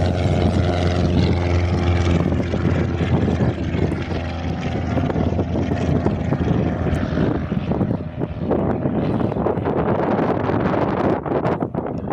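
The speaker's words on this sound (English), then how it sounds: "One of the airfield planes out of the two is now taking off." A Cessna 150 propeller plane takes off from an airfield on a windy day, its engine a loud, steady drone that holds throughout with heavy wind buffeting the microphone.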